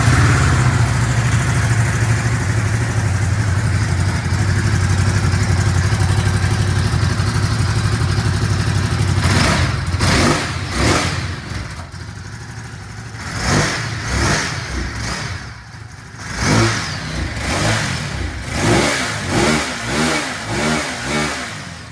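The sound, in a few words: Ducati Supersport S motorcycle engine idling and revving, standard exhaust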